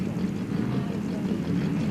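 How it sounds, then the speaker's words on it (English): Amphibious vehicle powered by a two-cylinder Briggs & Stratton engine at an ice racing event, giving a steady, continuous low engine drone with wind noise, no clear pauses or spoken voices. "This is an amphibious vehicle. Got a Briggs & Stratton engine in it,"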